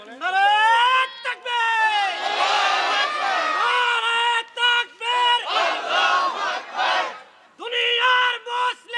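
A large crowd at an Islamic waz mahfil chants the Nara-e-Takbir call and response loudly in unison, with strong voiced shouts in several bursts separated by short pauses, close and energetic.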